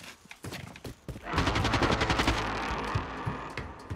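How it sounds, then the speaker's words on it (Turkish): Rapid automatic gunfire rattles from above in the video game Warzone, a dense sustained burst following a few scattered shots, loud and close. "Yukarıdan sıkıyor sanki."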